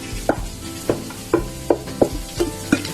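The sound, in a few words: chopped onions sautéing in a pan for Kerala squid roast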